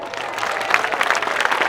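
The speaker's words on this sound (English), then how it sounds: "Give yourselves a round of applause." A seminar audience claps in a short, dense burst, loud and close, with scattered cheers mixed into the applause.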